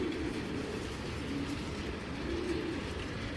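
A big, muscular 2022 male racing pigeon coos, soft low calls repeating at a gentle rhythm over steady background noise.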